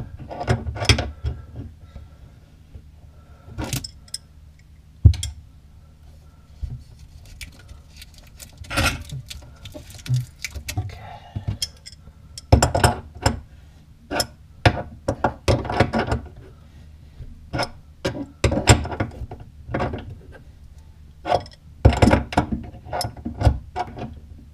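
Wrench ratcheting in short bursts as a sink faucet fitting is snugged tight, a series of sharp metallic clicks and rattles with pauses between, close and alone.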